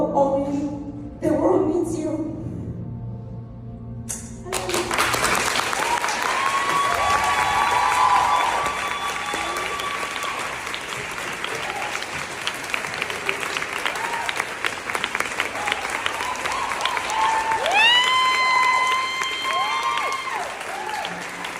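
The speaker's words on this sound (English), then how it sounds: "Big round of applause for the" An audience breaks into loud, sustained applause at a live talk, the clapping dense and steady for many seconds with scattered cheers, and a speaker's voice comes through briefly near the start.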